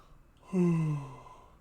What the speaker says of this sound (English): I just yawned in your ear